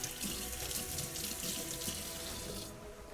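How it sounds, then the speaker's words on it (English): Tap water running steadily into a sink as a plate is rinsed, a continuous close splashing hiss that thins out near the end, with no talk. "I'm just gonna give this a rinse"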